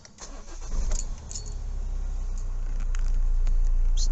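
A car engine cranks and catches, with faint key jingles at first, then a building low rumble that settles into a steady close idle with no talk.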